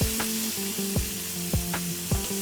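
Beef tenderloin filet, cooked sous vide, sears loudly in a hot pan with butter, a steady close sizzle broken by a few sharp clatters as the meat is turned.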